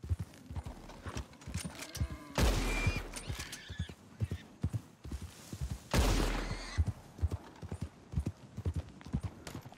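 Gunfire aimed at a wild boar during a hunt in Red Dead Redemption 2, two loud sharp shots a few seconds apart over steady horse hoof clip-clop.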